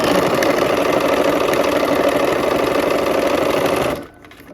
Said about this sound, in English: We're sewing our last seam.